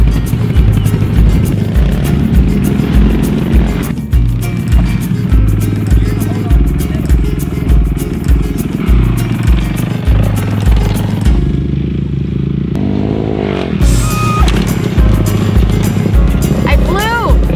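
Dirt bikes rev and ride at a motocross learn-to-ride track, engines loud and continuous with rising and falling throttle, while voices talk over the noise.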